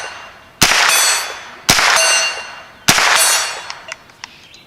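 CCI AR Tactical 22LR rounds strike a steel target, three loud ringing clangs about a second apart, each sustained metallic ring decaying before the next, with a few faint clicks afterward.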